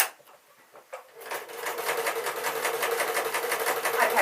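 A sewing machine stitches a pink dress, starting with a few soft clicks before settling into a loud, steady, rapid whirring run close by.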